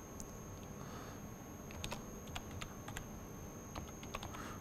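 Someone types code into MATLAB/Octave on a computer keyboard: quiet, irregular clusters of light keystrokes in a calm room, with no talking.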